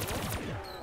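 Fireworks in a Black Ops 3 zombies match: a quick run of crackling, popping bursts with descending whistling tones that fade into a fizzing tail, loud and close.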